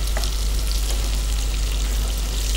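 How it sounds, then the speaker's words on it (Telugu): Garlic, green chilli, sliced onions and capsicum frying for garlic chicken fry, a loud, steady sizzle close by with a constant low rumble and faint stirring, no voices. "Garlic, green chilli, sliced onions and capsicum add చేసుకున్నాను. ఇవన్నీ కూడా ఫ్రై చేసుకుందాం."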